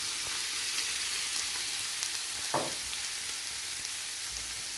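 Squid sizzles on a hot sizzling plate, a steady loud hiss of frying with a brief stir or clatter midway through.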